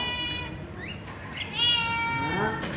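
A snow-coloured cat with rosette markings meows repeatedly up close, drawn-out rising and falling cries following one another, over a faint room background.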